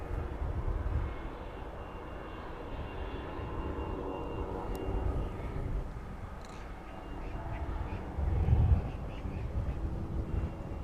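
A fixed-wing aircraft taxis toward its hangar at East Midlands Airport in the evening, its engine a steady low drone heard from a distance, with faint bird calls over it.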